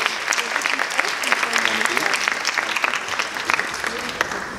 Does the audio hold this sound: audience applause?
yes